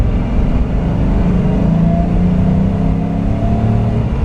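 A Ford Mustang Cobra engine, damaged by salt water, pulls away as the clutch is let out, giving a steady loud low rumble with a faint whine over it, close and with no talk.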